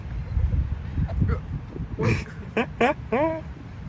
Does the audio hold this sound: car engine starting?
no